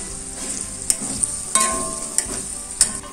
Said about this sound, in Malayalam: ഇനി പച്ചമുളക് ഇതൊക്കെ കൂടിയിട്ടൊന്ന് വഴറ്റിയെടുക്കാം.